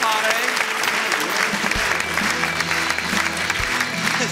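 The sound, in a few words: audience applause for athletes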